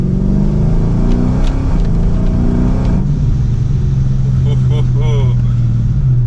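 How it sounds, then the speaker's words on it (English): A Dodge Charger Scat Pack engine, tuned to 1100 hp, revs up under load in third gear, a steady loud drone that climbs in pitch and shifts after a gear change, with road noise throughout. "And here goes third gear, minor acceleration."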